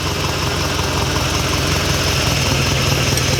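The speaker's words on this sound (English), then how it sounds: "Running and idling like that after 4 years." A restored Ferrari 308 engine, newly running after four years, idles steadily and fairly loud nearby, an even low rumble with a slight lope and no voices.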